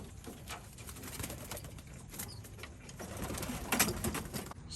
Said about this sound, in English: Yeah, that's Jack's bird